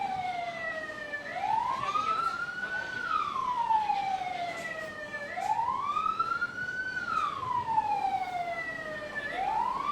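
Fire engine siren wailing at a fire-fighting demonstration for schoolchildren, slow rising and falling sweeps repeating in long cycles, moderately distant over faint background noise.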